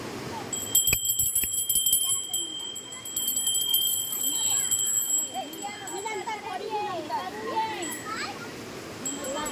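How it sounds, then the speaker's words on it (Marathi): A hand bell rings continuously during a Gauri puja at home, its bright metallic tone running under lively chatter from children and adults. "पूजा केला की घंटी वाजवला"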